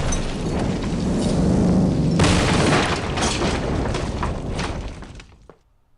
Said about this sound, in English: I hope that the blast will damage these large aircraft that are just parked on the tarmac space